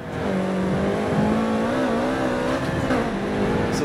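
A Subaru BRZ in the racing game Forza Motorsport, rear-wheel drive on a bumpy Rio de Janeiro circuit, gives a loud, continuous engine whine with a high whistle that rises and falls slightly through the run.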